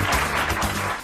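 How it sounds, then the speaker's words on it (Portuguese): A brief burst of audience applause at the Orgulho Autista award ceremony in Brazil, a dense patter of many hands clapping together. "Cadê os aplausos aí de novo?"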